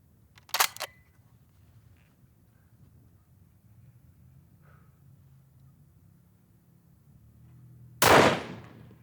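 Tikka hunting rifle fired at long-range steel targets outdoors: two sharp, loud shots several seconds apart, the second followed by a short decaying echo, with quiet background between.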